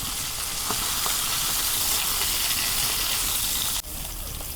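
Fish frying in hot mustard oil gives a steady, close, loud sizzle with dense crackle throughout, briefly dipping near the end before the hiss resumes.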